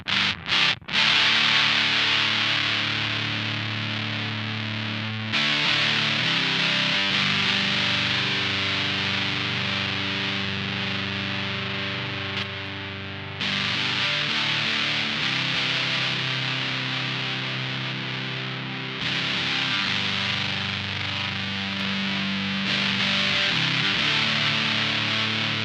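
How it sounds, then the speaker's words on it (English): Electric guitar through a Ronsound Hairpie distortion pedal plays chords and sustained notes with a thick, saturated, buzzy tone, ringing out in several long phrases separated by brief pauses. "you can hear the Ronsound is definitely more distorted, has a little bit more volume"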